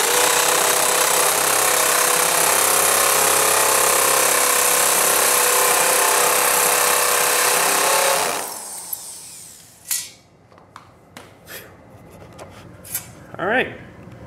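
Hammer impact drill boring pilot holes into a studio floor, a loud sustained grinding drone lasting about eight seconds, then stopping abruptly, followed by scattered clicks and handling knocks.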